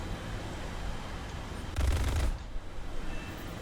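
A short rapid burst of machine-gun fire from a MiG-15bis or F-86A-5 Sabre jet fighter in a flight combat video game, a dense rattling stream lasting about half a second over steady engine and wind noise.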